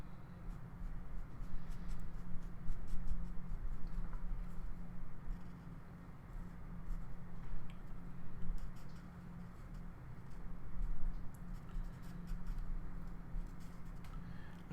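Graphite pencil sketches a figure on paper, shading folds in clothing with soft, continuous scratchy strokes that swell and ease in irregular bursts, close and fairly quiet, with no talking.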